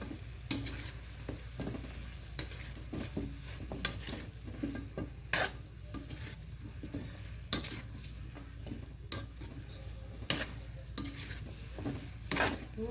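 Chicken feet frying in a pan while a utensil stirs and scrapes, giving a steady sizzle under repeated sharp clacks of metal against the pan.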